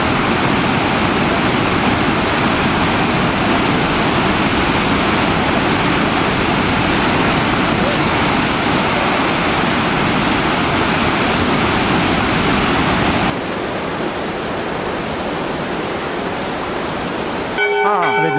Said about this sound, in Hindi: आप देख रहे हैं गौरी कुंड का पानी कितने जोर से